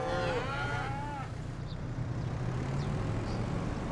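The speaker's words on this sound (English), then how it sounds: "Sounding a little bit loud with the cows." Cows mooing in the Farming Simulator 25 farm game on Wernolau Farm, a few drawn-out low calls early on over a steady loud background of livestock and farm ambience, with no talking.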